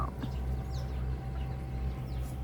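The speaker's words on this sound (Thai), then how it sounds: "ไก่มารอแล้ว" Chickens cluck softly nearby over a constant low hum, with a few scattered short calls and no talking.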